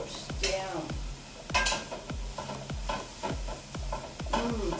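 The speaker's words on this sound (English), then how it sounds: "So we're just going to start wilting it. So a little bit at a time, and then we'll just toss it around, and that's going to all wilt down." Spinach wilts in a hot pan while a utensil stirs and tosses it, giving repeated scraping strokes against the pan over a soft sizzle, close and with no talk.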